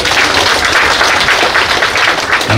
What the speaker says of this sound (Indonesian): kita tepuk tangan buat Tuhan